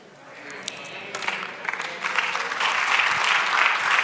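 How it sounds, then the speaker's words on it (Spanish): A church congregation applauds after a Spanish-language sermon, clapping growing steadily louder and fuller over a few seconds in a reverberant hall. "Dale un aplauso al Señor."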